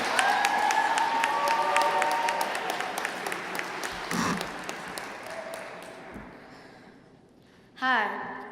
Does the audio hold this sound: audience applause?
yes